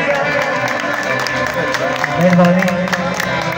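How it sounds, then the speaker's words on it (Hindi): Applause from a live qawwali audience, a steady clatter of many hands that swells slightly near the end, running beneath a voice and accompanying music. "प्रोग्राम का अगर मजा आ रहा है तो जोरदार तालियां"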